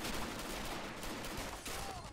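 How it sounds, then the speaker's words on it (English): Rifle grenade blasts and gunfire roar in a 1940 multiplayer battle in Men of War: Assault Squad 2, a dense, continuous wash of explosive noise with a sharper burst near the end. "Was that a mortar or...? Rifle grenade, I'm pretty sure."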